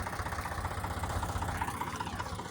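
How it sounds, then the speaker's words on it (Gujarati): A tractor-powered groundnut thresher runs in a farm field, a low, steady mechanical drone with a faint rhythmic pulsing, moderately distant and fairly quiet. "ટ્રેક્ટરથી આપણું થ્રેસર છે એ સોડે છે"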